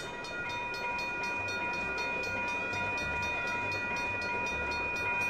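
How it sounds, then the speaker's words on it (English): A train rolls past a railroad crossing in Roblox, a steady rumbling wagon noise with faint repeating clicks and sustained high crossing-bell tones, loud and continuous with no talking. "Train approaching. Please remain behind yellow line."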